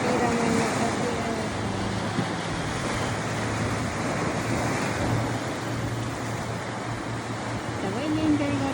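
Sea waves at Namal beach roll in as a constant broad wash of surf mixed with wind buffeting the microphone and a low background rumble, with a person talking at times.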